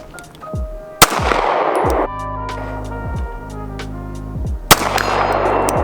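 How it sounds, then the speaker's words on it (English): A Springfield Range Officer Elite 1911 pistol fires one-handed at a 50-yard target, two loud, sharp outdoor shots about four seconds apart, each ringing out and decaying, with a steady low background hum between them. "All right, one more shot, one-handed, 50 yards."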